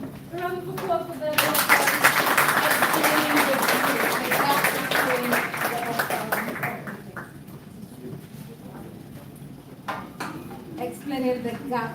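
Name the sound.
audience applause at a conference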